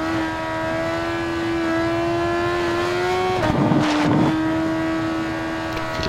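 A 2004 Yamaha R1 sportbike in the racing game Ride 4 holds a steady high-pitched engine drone, briefly dipping and roughening as it shifts or lifts off before settling back to a constant roar.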